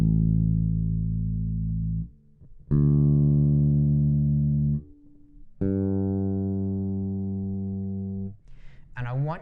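Bass guitar open strings plucked one at a time and left ringing, three deep sustained notes that each fade out before the next, with a faint higher sound at the end.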